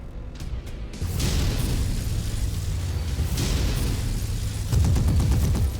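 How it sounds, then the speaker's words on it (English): Missiles launch and explode in MechWarrior 5: a deep, rumbling barrage of booms and blasts rolls on, loud and continuous, with a sharper burst of impacts near the end. "Missiles away."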